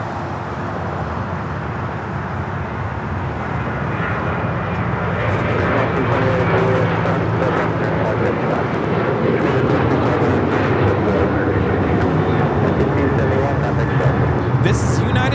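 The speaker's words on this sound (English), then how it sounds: "This is United Airlines 1571 taking off to Houston Intercontinental on the 737-900ER." A United Airlines Boeing 737-900ER taking off from Los Angeles International Airport, its engines building into a loud, sustained jet roar that swells and stays strong, with people talking over it.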